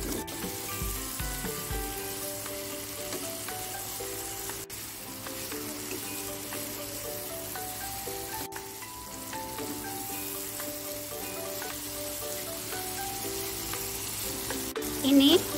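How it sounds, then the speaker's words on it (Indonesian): Chicken wings frying and being stirred through a cooked spice paste for a basil chicken wing dish, with steady sizzling throughout, sustained tonal music over it and the odd clatter of stirring. "Ini bumbunya juga udah matang. Sekarang akan saya masukkan sayap ayamnya."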